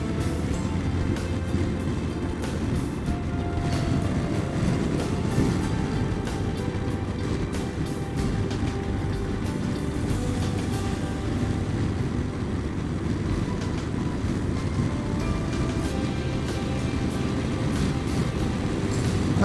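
A motorcycle ridden around a bend through a town, its engine giving a steady, loud low drone mixed with wind rush throughout, with no one speaking.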